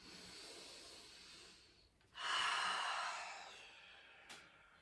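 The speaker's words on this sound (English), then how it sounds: "Take a deep breath in" A single deep inhalation through the nose, quiet and close, comes after soft background hiss and ends in a short exhale.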